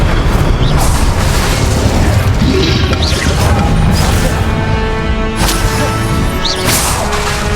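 Fire spell blasts from the wizarding game Hogwarts Legacy, heavy booming bursts and crashing impacts repeating over a loud continuous bed of combat noise, with no voices.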